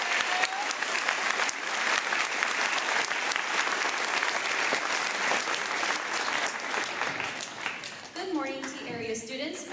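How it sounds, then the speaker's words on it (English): An audience applauds at a school Veterans Day program, dense steady clapping filling the room for several seconds before a voice begins speaking over the fading applause near the end. "Please give Miss Springman a round of applause."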